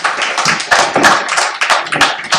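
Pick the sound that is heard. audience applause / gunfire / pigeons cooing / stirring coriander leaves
audience applause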